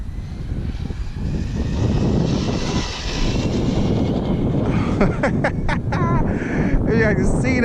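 A Team Associated DR10 RC drag car makes a speed run, its electric motor rising into a loud whining rush that holds for several seconds, with excited voices talking over the end.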